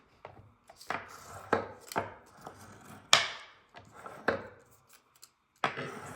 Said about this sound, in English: we're gonna burnish it really well with our bone folder here